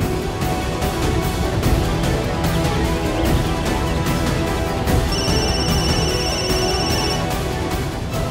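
A phone ringtone chimes in steady high tones over a loud, busy background of music and noise.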